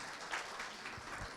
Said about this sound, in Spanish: Fuertes palmas para recibir al ingeniero Otto French Hurtado